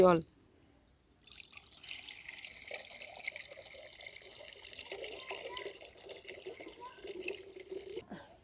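Water poured from a vessel into a karai set on a lit stove while making soft rice-flour roti, a steady splashing stream running for about seven seconds after a short pause, close and moderately loud.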